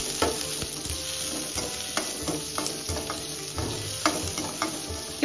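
Finely chopped onions fry in hot oil with a steady close sizzle, while a spoon scrapes and stirs them at an uneven rhythm throughout, with no talking.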